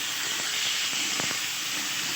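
Masala with turmeric, chopped tomato and a few green chillies sizzles in a pan, a steady close hiss with faint crackles throughout, cooking for a banana-flower curry.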